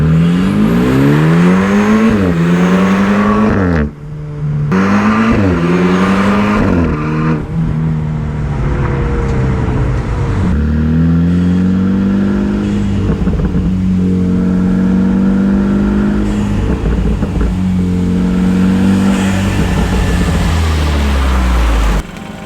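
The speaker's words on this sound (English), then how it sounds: "Those are the exhaust noises. Those are the exhaust sounds." A BMW F30's exhaust roars loudly as it revs and accelerates past, the engine note rising and falling in repeated sweeps before settling into a sustained drone.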